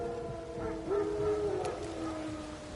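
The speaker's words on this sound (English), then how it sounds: "Wild dogs. Yes. More dangerous than wolves." Wild dogs howl in The Witcher 3, a couple of long wavering howls rising and falling over a low ambient bed, moderately distant, with no speech over them.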